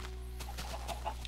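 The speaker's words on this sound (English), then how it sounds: "Chicken!" Minecraft chickens clucking in a game world, a few short soft clucks over a steady low background hum, with no talking.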